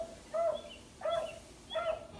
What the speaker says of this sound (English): Hard to feel calm with that dog barking.